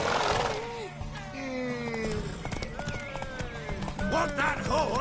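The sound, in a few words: horses galloping in The Witcher 3 video game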